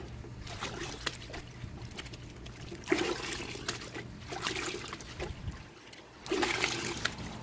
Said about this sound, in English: Let's give it a second rinse.